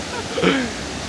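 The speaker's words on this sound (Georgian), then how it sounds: "ესეთი ჩანჩქერი არ მინახავს" A forest waterfall gives a steady, broad rushing roar that fills the whole clip, with a brief voice rising over the water near the middle.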